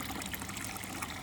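A steady rush of water flows through the heater core of a 2012-2017 Jeep Wrangler during a flush, a dense, close trickling and gushing sound with no voices.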